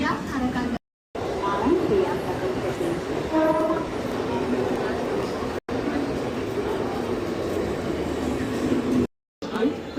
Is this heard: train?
yes